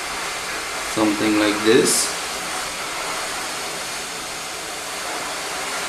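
A hot-air tool blows a steady, broad airy hiss while preheating a circuit board during an LED matrix repair, running evenly throughout with a brief voice speaking early on.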